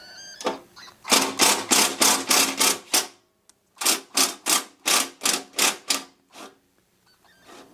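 A cordless drill drives a small self-tapping screw into a leaf blower during a repair, producing rapid bursts of high-pitched whirring in two clusters of about six pulses each, close and loud, with no voices.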